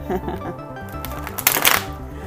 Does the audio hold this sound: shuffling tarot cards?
yes